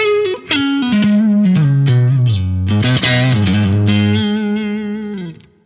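Electric guitar with coil-split pickups played through a Marshall JMP module: a loud, bright, slightly distorted sustained phrase with sliding bends and chorus-like shimmer, ringing out and fading at the end.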